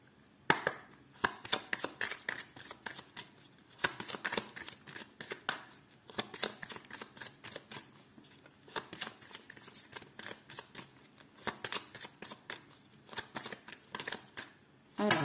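Lenormand oracle cards being shuffled by hand during a love reading, a steady run of close, crisp riffling and slapping bursts that repeat unevenly throughout.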